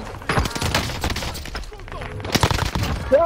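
Bursts of gunfire in a fast-paced video game firefight, several sharp shots clustered close together, with excited voices talking over the action.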